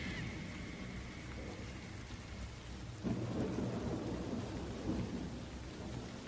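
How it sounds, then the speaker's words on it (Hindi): Heavy rain pours steadily in a forest, and a deep roll of thunder swells up partway through, rumbling on under the downpour. "जंगल में तेज बारिश हो रही थी, हर तरफ पानी की मोटी मोटी बूंदें गिर रही थीं।"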